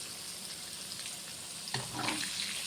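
Fish frying in a pan while mutton biryani is being made, a steady soft sizzle running throughout, with a brief clatter and a livelier bubbling burst partway through, heard close and alone without talk.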